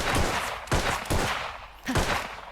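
Three separate gunshots from the Deadeye gunslinger class's basic left-click attack in a video game, loud close cracks spaced unevenly across the clip with no talking.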